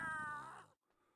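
In the horror video game Ice Scream 2, a cat lets out one short, drawn-out meow that drops into near silence, with only a faint trace of game ambience after it.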